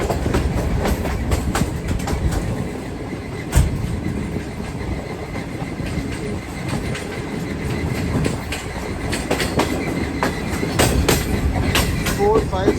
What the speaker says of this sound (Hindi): ट्रेन तकरीबन हमारी 100 की स्पीड पे दौड़ रही है आगे लाहौर की तरफ